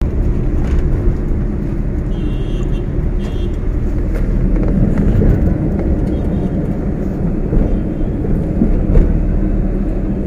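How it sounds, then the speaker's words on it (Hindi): Dense road traffic rumbles along Link Road in Mumbai, a steady loud low drone of engines with occasional faint horn beeps and passing vehicles, heard from close by inside the flow. "देख सकते हो बाजू में भी ट्रैफिक"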